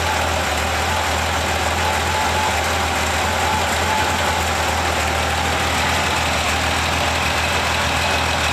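A warm Porsche 911 SC with a newly fitted SSI exhaust idles steadily, a constant low, even engine rumble throughout at close range, with no voices over it.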